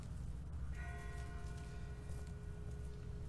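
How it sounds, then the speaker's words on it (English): A distant bell tolls in The Walking Dead video game near a river, faint and far off, its ringing tones sustained and fading over a low background rumble, no talk. "That's not the same bell as before. This one's further off."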